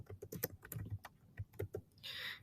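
Keys tap out a short typing burst on a computer keyboard, quiet and close, in an irregular rhythm, ending with a brief soft swish.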